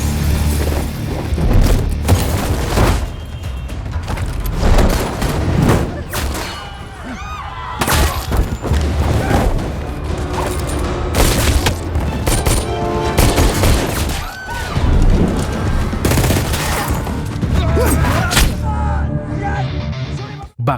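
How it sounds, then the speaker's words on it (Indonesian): Gunfight between bodyguards and mysterious attackers in an action film, with dense bursts of gunfire and booming explosions throughout, loud and continuous with metallic clangs and a dramatic score underneath. "baku tembak pun tak terhindarkan antara pasukan bodyguard dengan kelompok penyerang misterius tersebut"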